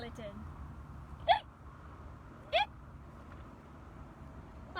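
A voice imitates hiccups during a children's story about a skeleton, two sharp squeaky hiccup sounds spaced apart over quiet background.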